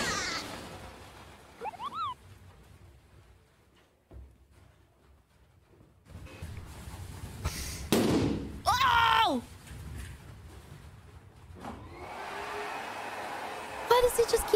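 Balloons being popped by furries, a couple of sharp broadband bursts standing out amid excited, chattering voices and squeaky vocal sounds, with quieter stretches between.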